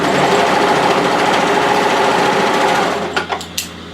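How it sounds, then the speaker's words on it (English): An overlocker stitches across the front hem corner of a cardigan, a fast steady mechanical whirr that stops near the end, followed by a few short clicks and clunks. "We're going to overlock from here across to here."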